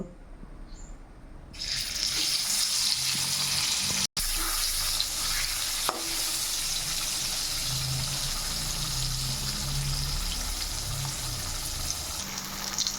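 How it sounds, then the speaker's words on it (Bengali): Paneer pieces fry in hot oil in a pan, giving a steady, dense sizzle that swells in after a quieter opening second and carries on evenly and close to the end. "এবার আমি পনিরগুলোকেও ভেজে নেব"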